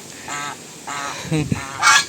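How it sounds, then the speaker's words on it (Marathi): A pair of ducks at a pond near a gate call out loudly in several nasal, honking bursts close by, with short pauses between them. "ते बघा कशी बदकं आपल्याला पाहून ओरडत आहेत"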